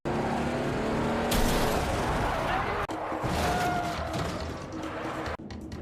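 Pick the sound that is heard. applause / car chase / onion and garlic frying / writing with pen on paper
car chase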